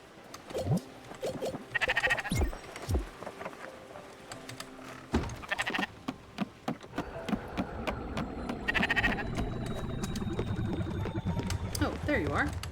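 Sheep bleat in the video game Spiritfarer, several short musical bleats popping out at intervals over busy game sounds and background music, with a voice talking in places.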